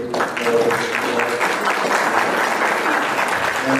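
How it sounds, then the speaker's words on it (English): An audience at an immigration forum gives a speaker a round of applause, with loud, close, steady clapping from many hands throughout. "Round of applause for her, too."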